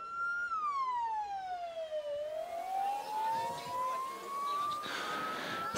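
An ambulance siren wails at an autocross race in Moldova, one long tone that slides down and then rises again, loud and fairly close, with crowd and track noise faint underneath.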